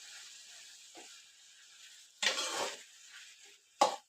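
Tomato mixture being stirred in a pan for a village-style tomato chutney: two distinct bursts of scraping and clattering against the pan over a faint steady hiss, otherwise quiet.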